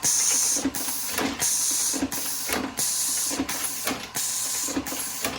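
A Lee APP press driven by a pneumatic cylinder cycles quickly, giving a regular series of sharp air hisses and mechanical clunks about every 0.7 seconds, close and fairly loud, with no talking.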